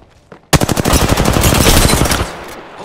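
Rapid automatic gunfire in a battle royale video game, a loud close burst of tightly spaced shots lasting about two seconds after a brief quiet lead-in, then cutting off abruptly.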